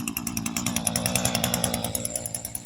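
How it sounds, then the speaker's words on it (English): A line trimmer's small two-stroke engine warms up at a fast idle on a cool day, buzzing with a rapid, slightly uneven pulsing rhythm, close and fairly loud with no other sounds. "warming up my line trimmer"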